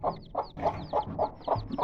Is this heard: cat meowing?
no